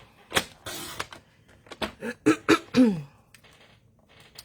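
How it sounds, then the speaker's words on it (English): A series of short, rough throat-clearing bursts, close and fairly loud, several in quick succession, then quiet. "you're gonna have to listen to me clear my throat"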